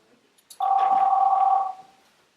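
A telephone rings once on a theatre stage, a single steady electronic tone lasting about a second, loud and clear, then fading out, with no talking.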